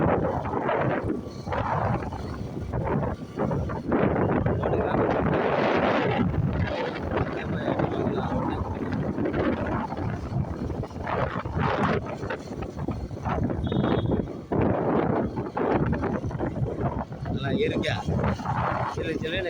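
Strong wind roars into the microphone while touring the Kolli Hills beside open farm fields, a continuous heavy buffeting that rises and falls in gusts, with a voice talking underneath throughout.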